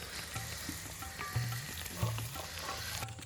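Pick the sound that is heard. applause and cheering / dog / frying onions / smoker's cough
frying onions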